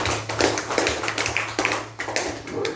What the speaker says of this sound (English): Give Dante a clap for me